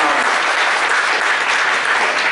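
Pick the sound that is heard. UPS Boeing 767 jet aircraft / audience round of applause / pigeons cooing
audience round of applause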